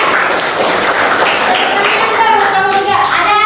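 Students in a classroom clap for a classmate during a religion lesson, a dense, steady patter of hands running the whole time while children's voices chatter over it.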